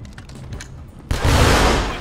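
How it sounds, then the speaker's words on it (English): Gunfire from GTA 5 running the Pull Your Gunz Out mod: a quiet stretch of faint rattling, then a sudden loud burst of sustained, dense shooting that carries on to the end, close and unbroken. "you get extra damage with the gunfire"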